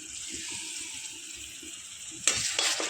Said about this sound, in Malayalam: നമ്മൾ വെളുത്തുള്ളി, ഇഞ്ചി, ചെറിയ ഉള്ളിയൊക്കെ ചതച്ചത് ചൂടായ എണ്ണയിലേക്ക് ഇട്ട് കൊടുക്കണം.